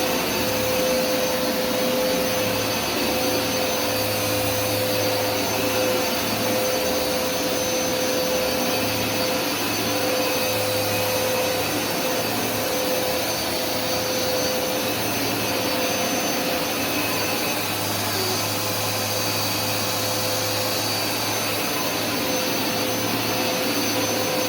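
A Hoover SmartWash carpet cleaner runs its dry pass over carpet, a loud, constant motor drone with a steady whine that continues without a break the whole time.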